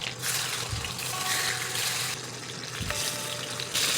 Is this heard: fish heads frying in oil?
yes